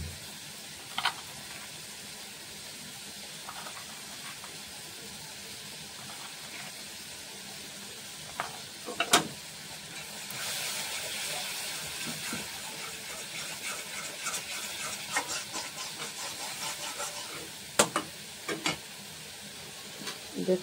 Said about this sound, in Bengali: দেখতে পাচ্ছ মশলাগুলো ফ্রাই হয়ে গেছে।